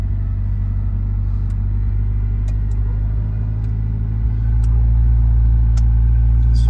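A 1980 Ferrari 308GTSi engine idles after a cold start, a steady, loud, deep rumble that swells slightly as the idle rises partway through, with a few faint clicks on top.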